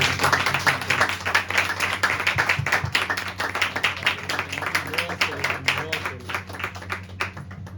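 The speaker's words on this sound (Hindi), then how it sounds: "जोरदार ताली बजा के उनका स्वागत करें।" A church congregation claps loudly and continuously in welcome, a dense, steady patter of many hands that fills the room for several seconds, with a voice faintly underneath.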